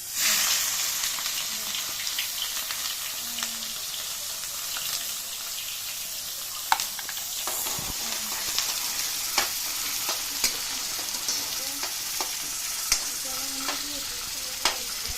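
Onions frying in hot oil for a home-style chicken curry give a continuous bright sizzle, punctuated by light clicks and scrapes of stirring and one louder knock midway.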